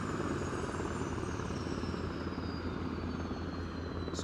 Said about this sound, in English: Inbound helicopter.